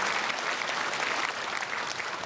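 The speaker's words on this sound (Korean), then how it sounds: "우리 크게 박수로 환영하겠습니다." Steady applause from a church congregation during a Sunday service in Korea, welcoming newly registered members; dense, even clapping fills the whole short stretch with no voices over it.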